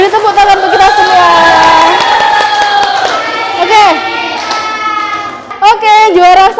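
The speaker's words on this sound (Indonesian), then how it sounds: "beri tepuk tangan untuk kita semua" Children in a classroom break into applause and cheering, with excited shouting and bright sung or chanted voices layered over the clapping, loud and close throughout.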